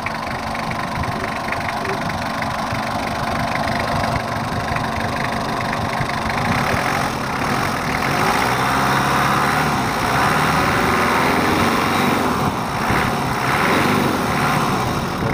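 A diesel engine idles steadily with its fuel setting still running rich, a continuous low rumble with a busy mechanical clatter holding at a constant loud level throughout.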